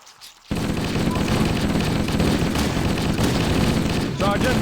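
Dense, continuous gunfire rattles through a battle cutscene in Halo: Combat Evolved, loud and nonstop after a brief quiet opening, with shouted voices mixed into the barrage.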